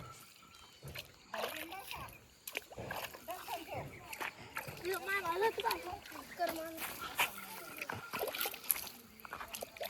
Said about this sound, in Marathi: ते टमाटे जे लावलेले त्याला पाणी घालतोय